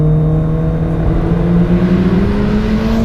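A track-ready Mitsubishi Evolution IX SE engine pulls hard under acceleration, a loud steady drone with rising harmonic tones heard from inside the car, continuous and close with no talk.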